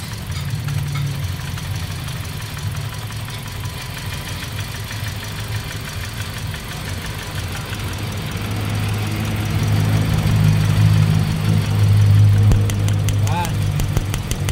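A Toyota Vios Dual VVTi, mistakenly filled with diesel, runs with strong vibration, a low, steady, rough engine drone that grows louder partway through. People talk nearby over the engine.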